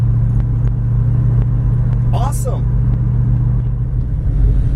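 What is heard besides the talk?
Plymouth Duster with 318 Mopar engine driving and accelerating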